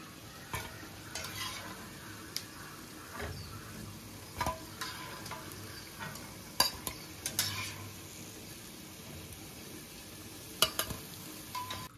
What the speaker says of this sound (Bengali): পেঁয়াজগুলো ভাজা হয়ে গেছে, একদম লাল লাল করে ভেজেছি। এবার তুলে নিচ্ছি।